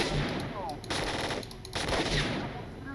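Automatic gunfire in the shooter game Stalker, set in a lab, rattles in rapid bursts with short pauses between volleys, loud and close.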